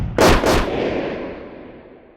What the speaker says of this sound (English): Multiple shots echo through the building